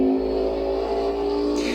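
A KTM X-BOW GT2 race car in the Assetto Corsa racing game, its engine holding a loud, steady, buzzing drone close up, with a brief change in tone near the end and nobody talking.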